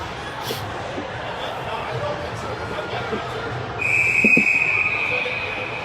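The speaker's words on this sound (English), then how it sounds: "We'll get the automatic whistle again." A referee's whistle at a youth ice hockey game gives one steady, shrill blast of about a second over rink noise and a commentator's voice.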